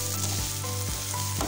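Onions fry on low heat in a pan for an aloo and cabbage sabzi, a dense continuous sizzle up close, broken by three stirring scrapes about half a second apart, with no talking.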